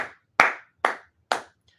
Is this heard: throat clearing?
no